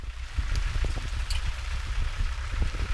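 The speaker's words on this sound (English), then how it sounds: "At this stage it was just a light shower, so nothing too serious." Light rain shower falling steadily on black cotton soil roads, a continuous soft patter of drops with scattered sharper hits, close and moderately loud with no voices.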